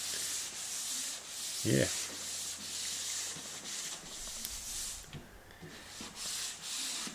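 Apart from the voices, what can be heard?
drywall corner sander sanding a corner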